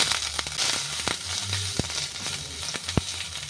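Grated ginger hits hot oil already crackling with whole cumin seeds for a Bengali potato-cauliflower curry, a steady close sizzle broken by sharp pops and a few utensil taps, with no talking.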